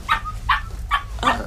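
A barking device gives four quick, high, yappy dog barks in an even rhythm, close and clear, each one short and sharp.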